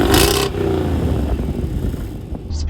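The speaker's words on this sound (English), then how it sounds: "it does have an exhaust button where you can turn on active exhaust" A 2020 Jaguar F-Pace SVR's supercharged engine revs hard with a raspy active exhaust, then settles into a steady low rumble for a couple of seconds.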